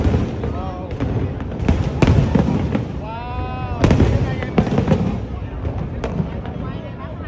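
Fireworks crack and boom repeatedly amid a noisy crowd in Singapore, with a whistling rocket rising in the middle and voices chattering throughout.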